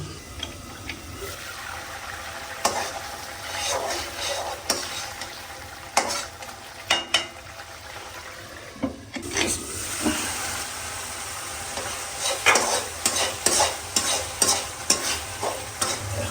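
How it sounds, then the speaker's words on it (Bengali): Chicken sizzles and fries in a pan while a spoon scrapes and stirs it in repeated strokes, close and fairly loud. "মুরগিটা কষানো হচ্ছে"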